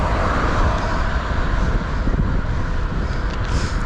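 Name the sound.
wind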